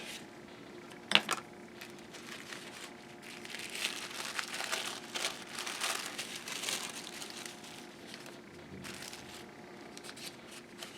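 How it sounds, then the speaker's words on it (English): Tissue paper crinkles and rustles in close, soft bursts as a package holding an 1832 Nova Scotia penny is unwrapped, with small handling noises and no talk. "Nicely wrapped in tissue paper."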